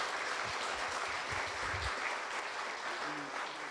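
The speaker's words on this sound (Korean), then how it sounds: "우리 송기현 선배님한테 큰 박수 부탁드립니다." Applause fills the room at a book concert in Wonju, a continuous wash of many hands clapping with a few low murmurs underneath.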